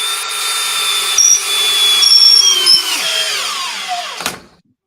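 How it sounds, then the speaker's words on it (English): Milwaukee cordless drill on a 3.5 battery whines loudly and steadily, rising and shifting pitch as it runs under load, then winds down and stops abruptly; no talking. "This is my favorite drill."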